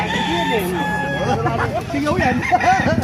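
Gilmore gamefowl roosters, ten months old, crowing over a busy market crowd at Bocaue, with clucking fowl and murmuring voices around them.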